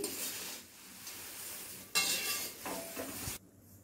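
A spoon stirs and scrapes salted thin poha chivda around a pan, with soft sizzling, close, continuous, and a few louder scraping bursts before it cuts off.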